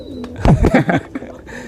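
Pigeons kept for high-flying competition coo in a short cluster of soft, throaty calls, several pulses close together and fairly loud, with a brief higher chirp early on.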